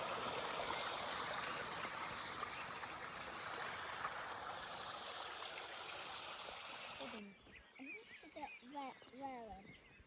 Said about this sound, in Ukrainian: Значить водоспад.